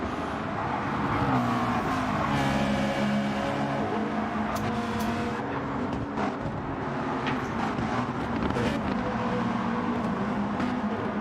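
Engines of racing cars, including a Lamborghini drifting, in a racing video game, a steady sustained roar at moderate volume with shifting pitch and no speech.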